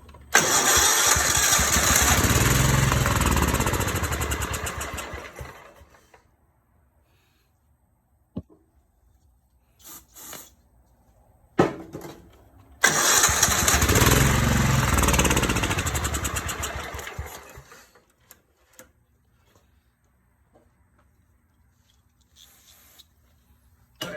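A John Deere LX173 riding lawn mower engine, run on full choke, cranks and catches twice. Each time it runs loud and rough for several seconds before dying. Between the runs there are short quiet gaps with faint clicks.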